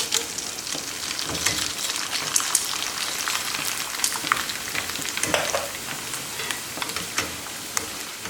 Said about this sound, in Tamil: இப்போ நம்ம வத்தலும் ஃப்ரை பண்ணி எடுத்துக்க போகிறேன்